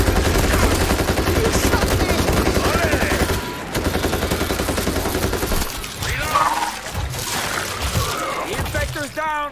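Loud video game gunfire in World War Z as players shoot a zombie, rapid shots and shattering bursts at close range, with players talking over the shooting.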